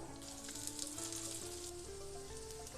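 Sweet potato kuzhi paniyaram frying over a medium flame in a paniyaram pan. A steady close sizzle of oil bubbling runs throughout without pause, with small pops and crackles, and no voices.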